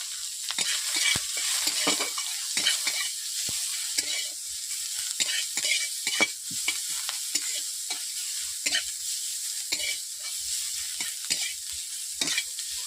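Chopped onions hit hot oil with panch phoron five-spice in a pan, giving a steady crackling sizzle punctuated by repeated scraping stirs of the spoon, close and alone without talk.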